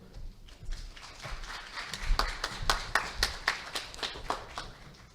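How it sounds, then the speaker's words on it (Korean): Scattered audience clapping at a Korean business briefing session welcoming a team leader to the stage, sparse at first then building into a steadier run of distinct claps from a modest crowd indoors, with no talk over it. "김희숙 팀장님을 큰 박수로 맞이해 주십시오"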